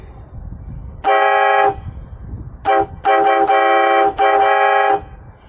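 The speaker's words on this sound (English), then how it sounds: "The Impact Train Horns, and this is the one with the 5 horns on it." An Impact five-horn train horn blasts loudly and close: one long blare, then a short toot followed by several sustained blasts with brief gaps, rich and harmonic over faint outdoor background.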